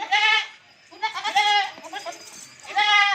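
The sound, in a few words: goat bleating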